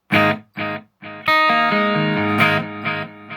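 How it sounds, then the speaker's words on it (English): Guitar played through a JBL practice amp on a pure echo delay setting: a few short plucked notes, then sustained chords with repeating echoes trailing off, loud and close. "So that's the pure echo."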